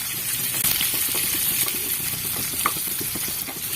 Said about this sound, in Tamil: வெங்காயம் நல்லா ப்ரௌனிஷ் ஆக வரைக்கும் நீங்க ஃப்ரை பண்ணிக்கோங்க.